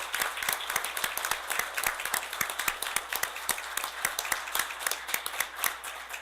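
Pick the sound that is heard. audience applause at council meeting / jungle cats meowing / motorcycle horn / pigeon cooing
audience applause at council meeting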